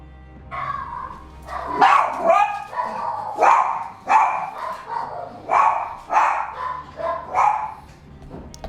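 A war dog in a video game barks over and over in uneven bursts, loud and close, with a few yips and whimpers between the barks and no talk over them.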